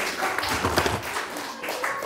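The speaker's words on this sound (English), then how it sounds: "A round of applause for my fabulous artist" An audience claps for a volunteer artist at a comic art masterclass, a steady wash of applause lasting about two seconds with scattered sharper hand claps.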